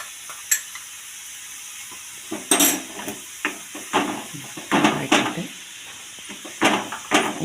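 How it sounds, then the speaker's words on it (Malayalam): Chilli powder sizzles in hot oil with fried garlic and ginger for a carrot and kudampuli pickle, a steady hiss under repeated close stirring scrapes and clacks of a spoon against the pan, with no talk. "അപ്പോൾ നമ്മൾ അതിലേക്ക് മുളക് പൊടിനെ ഇട്ട് ചൂടാക്കുക"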